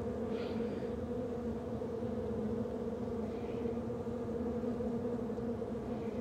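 Agitated honey bees buzzing in a winter hive during oxalic acid treatment, a steady, close, droning hum with no pauses.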